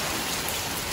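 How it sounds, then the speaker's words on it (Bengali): Heavy rain from a Kalbaisakhi thunderstorm, a dense and steady roar of downpour striking surfaces that fills a brief moment, loud and continuous, with no thunder clearly standing out. "কি বলে খুব জোরে বৃষ্টিকে কি বলে মিঠি"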